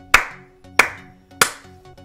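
Three sharp, loud hand claps ring out alone, evenly spaced about two-thirds of a second apart, each fading quickly in a small room.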